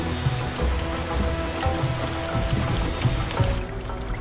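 Steady rain falls on a surface in a dense, even patter, with a few heavier drops standing out and no voices.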